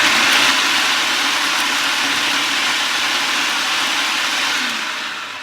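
A food chopper whirls chicken keema with coriander into a paste for Bohri cutlets, one continuous loud motor whir that runs steadily and tapers off at the end.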